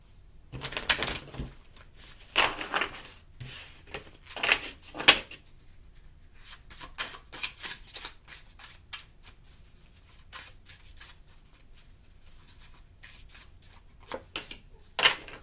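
Tarot cards shuffled by hand, repeated close riffling and snapping bursts with short pauses between them, crisp and moderately quiet.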